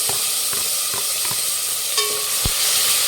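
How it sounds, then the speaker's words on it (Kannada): Chopped tomatoes fry in a pan for rasam, giving a steady bright sizzle with a few soft scraping stirs and clinks, close and continuous with no talking. "ಫ್ರೈ ಮಾಡಿ. ಫ್ರೆಂಡ್ಸ್ ನೋಡಿ, ಟೊಮೊಟೊ ಎಲ್ಲ ಚೆನ್ನಾಗಿ ಫ್ರೈ ಆಗಿದೆ."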